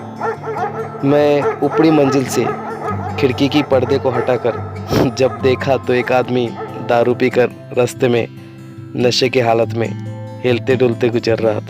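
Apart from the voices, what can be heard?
stray dogs barking, radio drama sound effect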